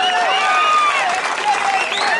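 A large crowd at an outdoor political rally claps and cheers loudly and continuously, with raised voices mixed into the applause.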